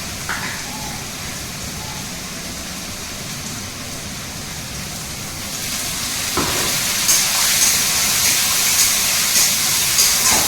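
Onions browning in a pan give a continuous broad hiss that grows louder and brighter halfway through, with a few faint knocks and no speech.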